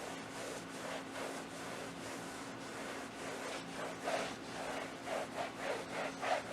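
A microfiber towel wipes down the interior of a Mazda 6, a close, quiet series of rhythmic rubbing strokes that grow more distinct toward the end.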